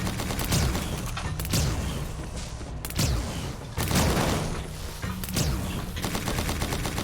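Sustained gunfire in a boss fight against a bug monster in the video game Lovecraft's Untold Stories, with dense overlapping shots and bursts rolling over a steady loud game soundtrack.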